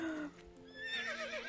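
A Belgian Warmblood horse whinnies in Star Stable Online, a clear neigh with wavering pitch that rises and trails off over game music, with no talk.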